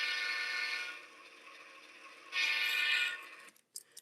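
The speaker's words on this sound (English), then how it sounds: "The speaker's literally shaking the speaker housing." A model BNSF locomotive's onboard sound speaker plays a loud, buzzy horn blast at high volume, rattling its housing, then cuts out and sounds again before stopping with a few clicks.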